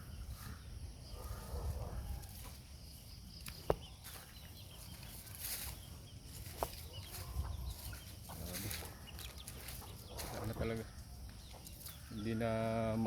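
Backyard chickens cluck and squawk intermittently outdoors in rural San Andres, Quezon, Philippines, amid a busy, noisy background, with someone talking in Tagalog throughout.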